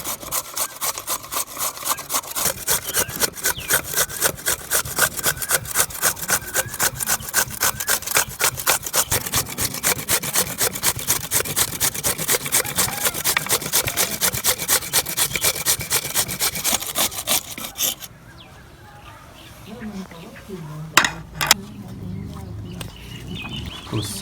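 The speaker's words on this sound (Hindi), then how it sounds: "और आखिर में शामिल करेंगे हम मूली को कद्दूकस करके शामिल करेंगे।" Radish is rubbed steadily against a grater for raita, producing a fast, even rasping rhythm that runs loud for most of the time before stopping, followed by quieter scattered handling sounds.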